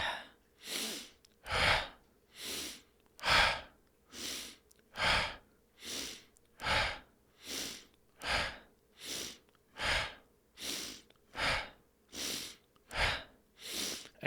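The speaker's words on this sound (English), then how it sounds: "the breath will just be an in, out, in, out, in, out 9 times" Deliberate breathing exercise with forceful in-and-out breaths: about seventeen loud, close breath sounds in a steady rhythm, each lasting under a second, with short silent gaps and no speech.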